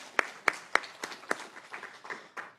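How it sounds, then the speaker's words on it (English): A quick round of applause at an award lecture in behavioral and social sciences: a handful of sharp, distinct claps in a loose rhythm, thinning and softening toward the end. "So we give them a quick round of applause."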